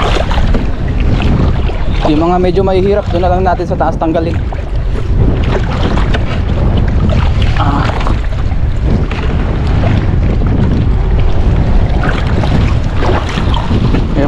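Strong wind buffets a boat out at sea, a loud, steady roar of gusts rushing across the microphone throughout, with people talking over it.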